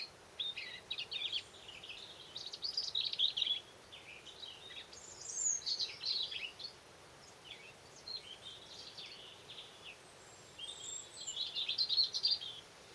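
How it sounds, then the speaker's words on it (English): A small bird sings from a tree above a cotoneaster in a permaculture garden, giving faint, scattered bursts of high twittering phrases with pauses between, against quiet outdoor background. "In fact, that's where that little bird is."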